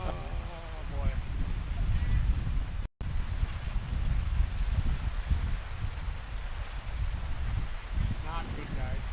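Steady rain falls on a demolition derby track, a constant dense hiss outdoors with someone speaking over it.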